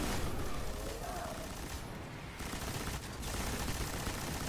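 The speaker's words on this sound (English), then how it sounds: "I need to switch to my LMG." An LMG machine gun in Destiny fires in dense, rapid bursts amid a chaotic firefight, with a brief lull midway before the continuous rattle resumes, heard faint and mixed with other game noise.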